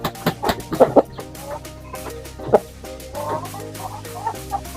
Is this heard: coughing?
no